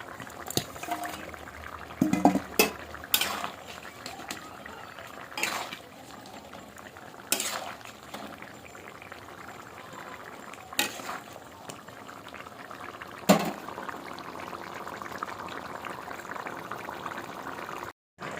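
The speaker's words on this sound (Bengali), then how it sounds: "তরকারিটা ফুটে উঠেছে এবারে মাছগুলো দিয়ে দেবো" Fish curry simmering in a pot while pieces of fish are added, a steady soft bubbling broken by several sharp clinks of utensils against the pot and brief stirring and splashing sounds, close by with no talking.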